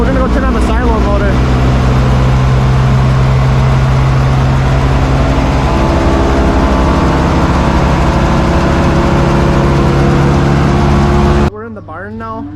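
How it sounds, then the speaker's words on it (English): A tractor engine runs steadily at throttle while warming up, a loud, continuous low rumble with a constant drone that holds for most of the stretch before cutting away abruptly near the end. "We got it running to warm up the tractor."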